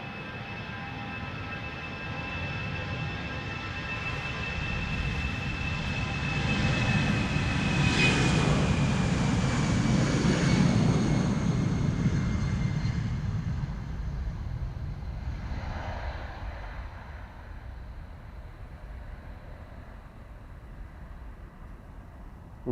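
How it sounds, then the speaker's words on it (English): An EasyJet Airbus A319 departs Amsterdam Schiphol for Stansted; its jet roar builds to a loud, broad peak with a rising whine, then slowly fades into the distance. "EasyJet to Stansted, A319."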